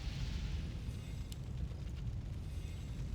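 Mortar fire and a Blizzard spell from a Warcraft III match, heard as a dense, low, continuous rumble of blasts with a faint crackle of higher impacts, steady and fairly quiet with no talking.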